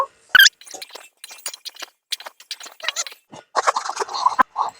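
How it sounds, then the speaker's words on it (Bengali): Boiled egg and boiled potato being mixed together in a bowl, with close, intermittent clinks, taps and soft scrapes in an irregular rhythm against a quiet background. "ডিম এখন দিয়ে দিবো আবারও খুব ভালো করে মিশিয়ে নেব"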